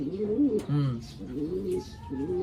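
Pigeons cooing up close, soft rolling low coos repeating in several phrases, with a few light rustles and chirps.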